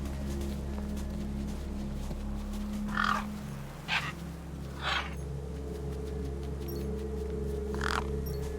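Birds caw in the video game Beyond a Steel Sky, with four or five harsh, separate calls spaced over a steady low ambient hum.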